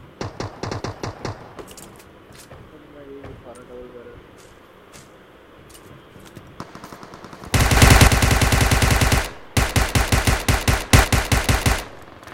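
Video game gunfire: scattered single shots early on, then two long rapid automatic bursts near the end, loud and close, with players talking in the background.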